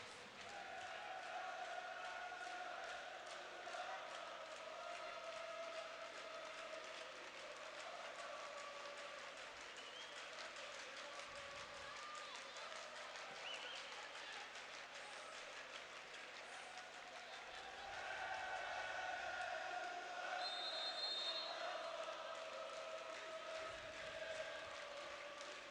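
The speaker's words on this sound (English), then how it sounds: "I really hope this crowd noise is coming through at home, because it is a wonderful atmosphere." Arena crowd noise fills a timeout at a women's Champions League volleyball match against Vakifbank, a steady roar of voices and applause that swells near the end, with a high tonal whistle-like tone briefly on top.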